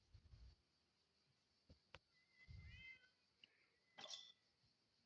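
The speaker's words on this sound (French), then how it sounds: "il est trop cute, mon petit chat" A pet cat lets out a soft, short meow in a quiet room, with a few faint bumps and rustles around it.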